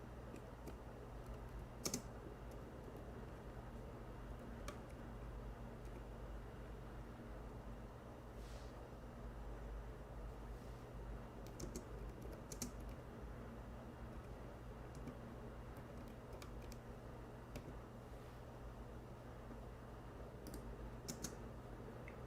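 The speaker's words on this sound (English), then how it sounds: "I'm typing in English." Typing on a computer keyboard, a steady stream of soft close key clicks with occasional sharper taps, over a constant low hum, no voices.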